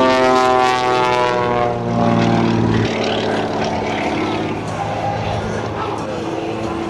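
A propeller aerobatic airplane performing at the AirPower Over Hampton Roads air show roars loudly overhead, engine pitch sweeping as it climbs and rolls, with a commentator talking over it throughout.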